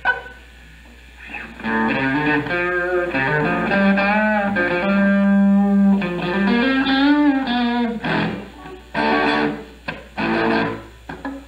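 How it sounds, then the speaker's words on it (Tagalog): Electric guitar run through a distortion effect in a rock style, played loud and sustained with chord and note phrases, a few choppy bursts near the end, no talking. "halimbawa po gusto ko ng rakrakan, pwede akong maglagay ng distortion"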